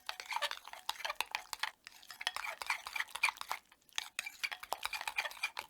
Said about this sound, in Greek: το ρίχνω στο μπολ, μαζί με ψιλοκομμένο άνηθο και ανακατεύω όλα τα υλικά μαζί να ενωθούν οι γεύσεις